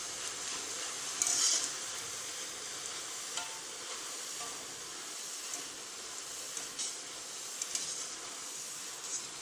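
Boondi batter deep-frying in hot oil, a steady soft sizzle and crackle that stays even throughout, with a few brief louder pops and clinks near the start.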